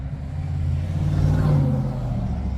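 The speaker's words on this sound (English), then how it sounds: "Hold on, big truck." A big truck passes along a road, its deep engine rumble growing louder to a peak midway and then fading as it moves off, with no voices during the pass.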